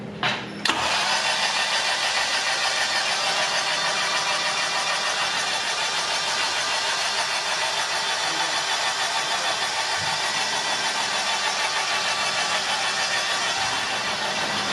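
A K24 engine swapped into a Mazda Miata MX-5 cranks briefly and fires for its first start, then settles into a steady, fairly loud idle that holds for the rest of the stretch with no voices.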